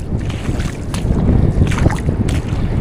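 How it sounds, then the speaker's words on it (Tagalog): Strong wind at a fishing spot buffets the microphone with a steady, loud low rumble and gusty swells, with no one speaking. "At malakas din po ngayon yung hangin."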